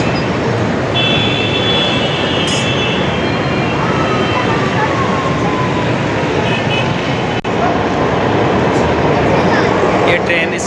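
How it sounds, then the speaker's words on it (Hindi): An Orange Line metro train in Lahore pulls out of an elevated station, a steady loud rumble and rush holding throughout with a faint high whine sliding in and out. "ये ट्रेन इस वक्त स्टेशन छोड़ रही है जी।"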